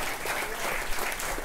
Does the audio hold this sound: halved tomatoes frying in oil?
no